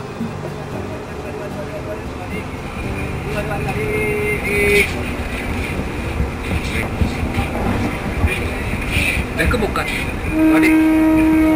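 Steady rumble of a crowded passenger train in motion in Sri Lanka, heading to Kandy, with clattering and rail noise throughout, people talking in the carriage, and a long horn-like tone near the end.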